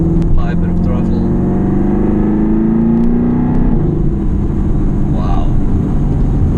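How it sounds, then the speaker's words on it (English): A Mercedes-Benz AMG GT-R Pro in 4th gear at low speed with a bit of throttle: a deep, steady engine drone with a rising tone, loud and close inside the cabin throughout. "Even at the slow speed, 4th gear, you can just enjoy the sound of the engine. Apply a bit of throttle."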